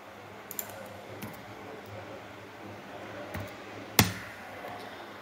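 Keys tapped on a computer keyboard while entering data in an Excel spreadsheet: a few sparse, quiet clicks spread over a low room hum, with one sharper keystroke near the end.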